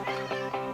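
A house cat meows three times in quick succession, short tonal cries close to the microphone with no talking over them.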